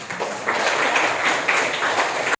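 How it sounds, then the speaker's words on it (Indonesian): Classroom applause from students for a classmate, a steady patter of many hands clapping close by and sustained for a couple of seconds before cutting off abruptly. "kita berikan tepuk tangan buat"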